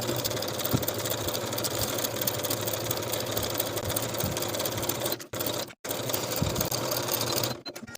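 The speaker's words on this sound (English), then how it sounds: "edge stitch close to that upper inner fold, just as we did for the bottoms of the sleeves" A sewing machine edge stitches close to the upper inner fold of a round-neck cropped boxy top, humming steadily and loudly up close, with two brief pauses before stopping near the end.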